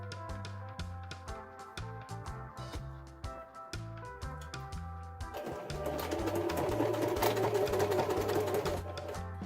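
Home sewing machine running in rhythmic bursts as it stitches across fabric to make a wine gift bag, a steady mechanical whirr with brief stops, growing louder and busier in the second half.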